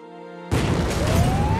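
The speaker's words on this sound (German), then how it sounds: "Es gab eine Explosion." In a trailer for the film In the Fade, a sudden loud explosion cuts off soft tonal music, bursting into a sustained roaring crash of debris that continues to the end.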